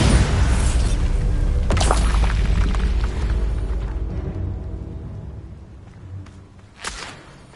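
Bombarda spell blasts in the Hogwarts Legacy video game, with a heavy booming burst early followed by a fading rumble and a sharper impact near the end.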